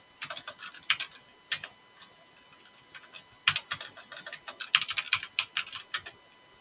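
Password being typed on a computer keyboard: quick bursts of light, close key clicks with short pauses between runs, no talking.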